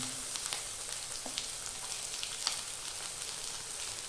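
Four cloves of garlic and an inch of ginger fry in hot oil in a pan, giving a steady, bright sizzle with a few faint clicks from stirring throughout.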